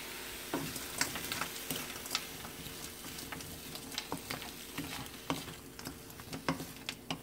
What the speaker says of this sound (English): this is my oriental stir-fried veggies, frozen, that just went into my wok there